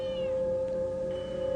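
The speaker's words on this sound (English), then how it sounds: "Mew, mew, says the cat." A single drawn-out, tonal cat meow, loud and close, with a steady pitch sustained for over a second and no speech around it.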